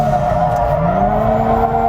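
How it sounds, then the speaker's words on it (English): Hyundai Genesis Coupe (ARC Performance SEMA build) drifting after a clutch kick, a loud sustained engine drone held at steady revs with tire noise, close and continuous. "clutch kick the car,"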